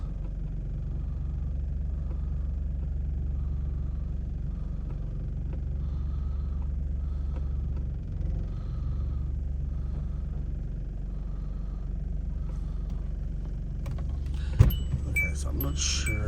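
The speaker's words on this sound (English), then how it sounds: "Waiting for some cars to pass." Cars pass by on a busy road in heavy traffic, a steady, close low rumble that carries on without a break, with a short sharp knock near the end.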